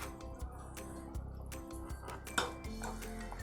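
A lid is lifted off a pot of simmering shark fish curry in a home kitchen, with faint metallic clinks and a soft clatter over a low hum, all quiet and close.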